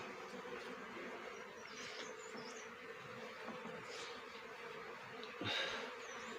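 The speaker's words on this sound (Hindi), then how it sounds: "ये देखो ये मधुमक्खी इसमें।" Honeybees from a colony being moved out of a cowshed cupboard into a box hive, a steady hum of many insects close by with a brief louder buzz near the end.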